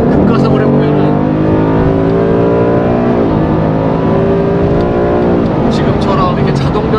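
A 2018 Ford Mustang GT V8 under hard acceleration, heard from inside the cabin as a loud, steady, rising engine drone with a smooth automatic gearshift partway through.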